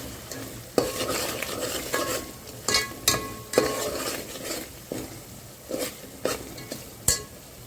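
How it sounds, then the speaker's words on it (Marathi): Turmeric stir-fried in hot oil for a traditional Kolhapur-style vegetable dish: a continuous close sizzle punctuated by repeated scraping clanks of a spoon against the pan, with no talking. "आता यामध्येच थोडीशी हळद ती पण आपण चांगली परतून घ्यायची बघा कसे चांगले तेलेला सुटलेले आहे"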